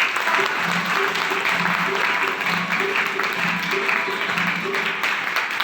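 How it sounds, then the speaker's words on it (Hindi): An audience at a motivational talk claps loudly and continuously, a dense wash of hands close by that holds steady throughout, with faint voices mixed underneath. "आज उनकी जयंती भी है, एक बार उनके लिए भी तालियां मारें।"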